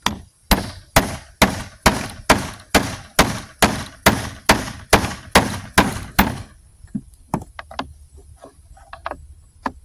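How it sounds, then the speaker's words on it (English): A hammer strikes a metal tool about fifteen times while working on a 2004-07 Cadillac DTS timing cover, a steady rhythm of sharp, ringing clanks, then stops, leaving quieter scattered knocks and handling sounds. "you're going to smack it through with a hammer"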